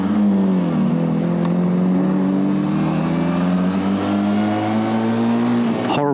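A Harley-Davidson X350 motorcycle accelerates on a sunny road, its engine note climbing steadily and close up for several seconds, then breaking off in a rough, clunky gear change near the end.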